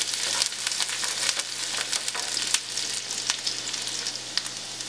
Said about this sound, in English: We'll add ginger, garlic, saute for about